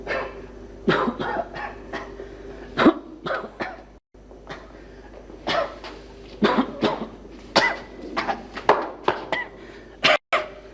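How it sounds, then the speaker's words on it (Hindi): Repeated harsh coughs and hacking bursts, some in quick clusters, fairly close and loud, with short pauses in between. "तुझे खांसी बहुत आने लगी है"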